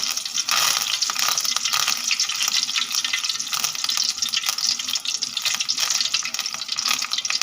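Curry leaves crackle and spit in hot oil while making aval (poha) mixture snack, a dense, loud, continuous frying hiss throughout with no talking.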